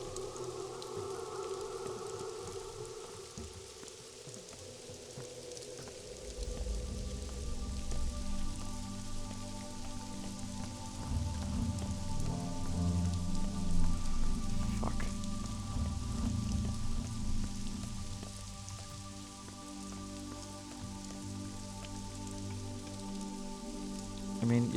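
Steady pouring rain in the video game Pathologic 2, a dense hiss of drops on surfaces continuing throughout, joined partway by a low rumbling ambient drone.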